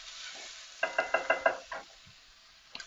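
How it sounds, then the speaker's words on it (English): Garlic and chili are stirred into onions and peppers in a pan, with a faint sizzle under a quick run of five or six knocking utensil taps, then a few scattered clacks. "Now it's time to add the garlic and the chili. And we'll cook that together, stirring it in for about 30 seconds."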